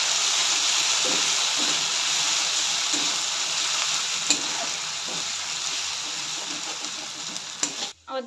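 Ginger-garlic paste sizzling and frying in a pan for a mushroom masala curry, a steady close hiss with occasional stirring scrapes, ending abruptly.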